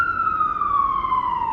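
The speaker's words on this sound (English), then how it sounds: "I don't know if you guys can hear that fucking ambulance" An ambulance siren wails outside, a single sustained tone sliding slowly downward as it passes, clear and moderately loud over a low background rumble.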